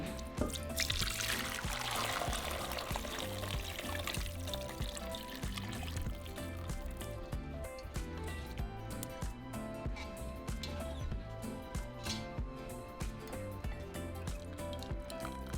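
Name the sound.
straining beef broth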